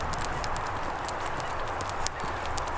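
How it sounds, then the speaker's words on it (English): A dog's toenails click rapidly on pavement in a quick, light pattering rhythm, close to the microphone, over a steady outdoor hiss. "the only noise I hear is her toenails clicking along on the pavement"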